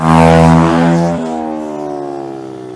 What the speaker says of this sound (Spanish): Acaba de pasar un niño de, no sé, 8 o 10 años con la moto, mira cómo va.